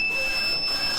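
A DTF printer gives a continuous high electronic beep warning of low white ink, steady and fairly loud over a faint room hiss.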